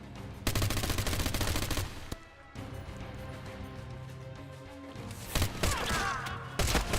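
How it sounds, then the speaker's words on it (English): Rapid automatic gunfire in a video game, dense loud bursts of shots with a brief pause, then more volleys and sharp impacts. "Where are they shooting from?"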